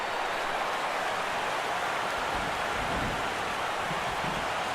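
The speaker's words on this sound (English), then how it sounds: "The rain, as we've mentioned, coming down fairly steadily here at game time" Steady rain falls over a baseball stadium in MLB 15 The Show at game time, a constant broadband hiss that fills the whole clip evenly, loud and unbroken, with no voices.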